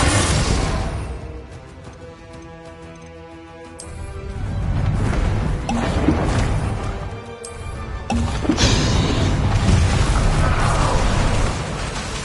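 Spell explosions from Confringo and Bombarda in Hogwarts Legacy: dense booming blasts and bursts layered over game music, with loud stretches in the middle and final seconds.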